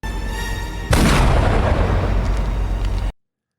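A loud, sudden burst of gunfire in an action film scene as soldiers are shot, starting after a steady background hum and then trailing off in a long booming decay before cutting to silence.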